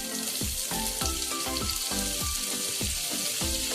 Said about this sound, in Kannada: ಈಗ ಇದನ್ನು ಸ್ವಲ್ಪ ಹೊತ್ತು ಮಧ್ಯಮ ಉರಿಯಲ್ಲಿಟ್ಟು ಚೆನ್ನಾಗಿ ಫ್ರೈ ಮಾಡಿಕೊಳ್ಬೇಕು